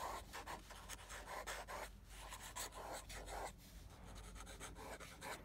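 A fountain pen nib scratching across paper in short, rasping strokes, close and quiet, with a steady low hum beneath and faint breathing between strokes.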